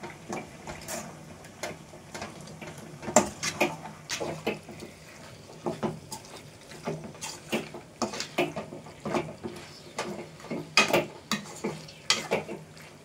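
Chicken masala gets stirred in a pan, a spoon scraping and clattering in irregular bursts over a faint sizzle, close and fairly quiet, no talking.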